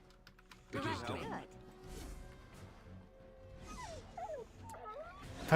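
Wolves in the video game Dragon Age: Origins yip, whimper and snarl in short bursts, alongside keyboard clicks and a person talking over the game audio.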